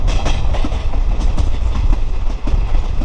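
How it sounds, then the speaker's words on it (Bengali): The Bhagirathi Express runs just after leaving Krishnapur station in Murshidabad, heard from on board as a loud, close, rhythmic clatter of wheels and carriages rolling steadily along the track. "দেখুন কৃষ্ণপুর রেলওয়ে স্টেশন ছাড়লাম আমরা"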